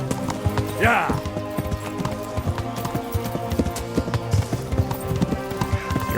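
Horse hooves gallop in the medieval video game Kingdom Come: Deliverance, a steady rapid clip-clop running throughout, with a brief whinny near the start and a voice shouting over the hoofbeats.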